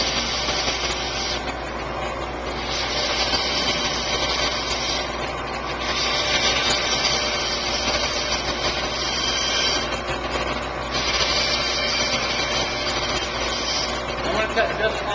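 A woodworking bandsaw runs steadily while cutting a curve, a continuous close whine and hum that rises slightly at times as the blade works through the piece, with a person talking over it.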